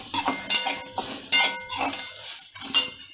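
Masala spice paste sautéed in oil in a pan while a metal spatula repeatedly clinks and scrapes against the pan in an uneven stirring rhythm, close and fairly loud with no talking.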